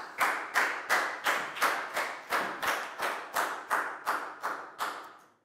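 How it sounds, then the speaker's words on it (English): Pupils in a Year 4 maths class give Pangpon a round of applause, a steady, evenly spaced clapping of about a dozen claps, fairly quiet and in unison, with no talk. "Big round of applause for Pangpon."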